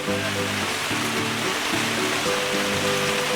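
Steady broadband rain hiss on a campsite by a reservoir fills the scene without pause, with faint tonal sounds underneath.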